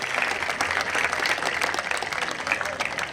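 A high school jazz band audience at a graduation ceremony breaks into dense, steady applause, a full crowd clapping loudly and evenly throughout with no pause.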